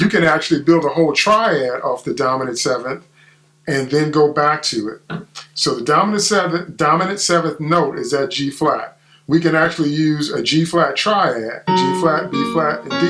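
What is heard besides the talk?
None of the usual background noises is heard.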